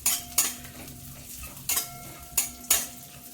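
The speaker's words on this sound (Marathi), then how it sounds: "हे बघा काजू आणि बदामाचे काप आहेत, ते चांगले असे भाजून घ्यायचे" Cashew and almond slices roasting in ghee in a pan, a quiet steady sizzle punctuated by four sharp metallic scrapes of a spoon stirring against the vessel.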